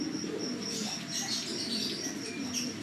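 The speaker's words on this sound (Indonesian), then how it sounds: "Ini adalah burung-burung kawan-kawan." Doves or pigeons coo repeatedly, fairly close, mixed with light chirps and tweets, forming a continuous outdoor bird chorus with no talking.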